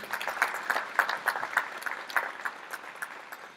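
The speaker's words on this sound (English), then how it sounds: "A big round of applause, ladies and gentlemen." A crowd at a tourism group's app launch event gives a moderate round of applause, rapid clapping that peaks early and then thins out toward the end.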